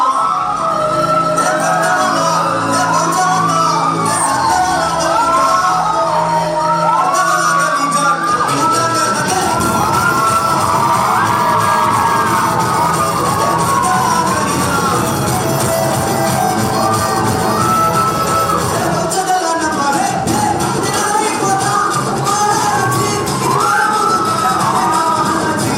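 A large college-day crowd roars for a dance team from Tamil Nadu, with loud whoops, shouts and high-pitched cheers layered over a continuous noisy din throughout.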